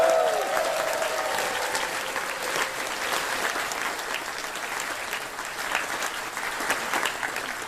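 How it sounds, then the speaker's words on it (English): Crowd applause and cheering at the Confuzzled 2024 closing ceremony, dense sustained clapping from a large audience with a few shouts, loudest at the start and holding steady. "a massive round of applause and a big cheer for."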